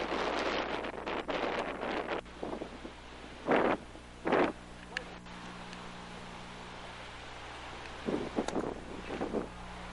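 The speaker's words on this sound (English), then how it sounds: "With this strong wind blowing." Strong wind buffets the microphone on a baseball field in a series of rough gusts, rumbling and roaring in bursts against a steady low hum.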